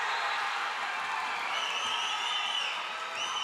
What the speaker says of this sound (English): Their crowd now going nuts